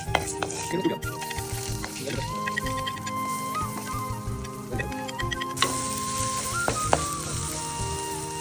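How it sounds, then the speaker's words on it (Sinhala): Mustard seeds splutter in coconut oil with a continuous crackling sizzle and scattered sharp pops, close by, accompanied by a faint steady tone and occasional clicks throughout. "අප ටික හොඳට පැලෙන්න අරින්න ඕනේ."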